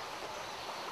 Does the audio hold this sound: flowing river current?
yes